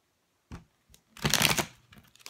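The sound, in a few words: shuffling tarot cards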